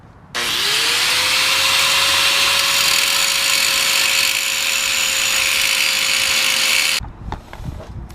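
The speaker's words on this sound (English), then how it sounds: "So I'm gonna speed this up with the grinder" An angle grinder works on a car part, starting abruptly and spinning up into a loud, steady high-pitched whine with grinding hiss for about six seconds, then cutting off and leaving some faint handling noise.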